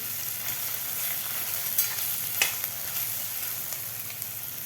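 Ginger garlic paste sautés with onions in a hot pan, a steady close sizzle and hiss that runs without a break, with a few soft scrapes of stirring and no voices.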